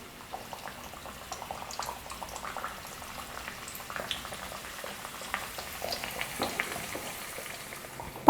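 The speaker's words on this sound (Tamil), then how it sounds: "இதே போல் தேய்ச்சி கட் பண்ணி வச்சுருக்கிற எல்லா மாவையும் எண்ணெயில் போட்டு பொரித்து எடுத்துக்கலாம்." Gram flour and wheat flour snack dough deep frying in hot oil over moderate heat, a steady soft crackling and bubbling hiss with faint pops, no voices.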